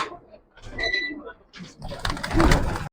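Pigeons coo in a loft, among them a breeding master pair, with soft throaty calls rising in short bursts beneath someone talking nearby.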